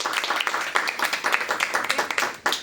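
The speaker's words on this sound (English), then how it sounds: "let's give all ourselves a big clap" An audience at an offline parenting meet claps together, a dense burst of applause holding steadily for a few seconds with faint voices mixed in.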